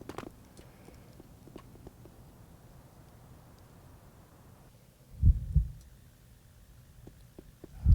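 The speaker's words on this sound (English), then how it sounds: "The heartbeat you get in here, totally not creepy." Creepy heartbeat ambience inside a building in the online game Anarchy Online, with faint low thumps over a quiet hum, then a few louder, deeper beats near the end.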